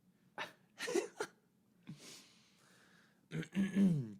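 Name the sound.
person coughing during podcast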